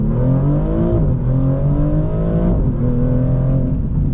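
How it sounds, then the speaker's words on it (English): A 2024 Maserati GranTurismo Trofeo engine revs hard and close, its pitch climbing through gears with brief drops at each shift, loud and continuous. "I'm starting to like this engine more and more as I get used to it."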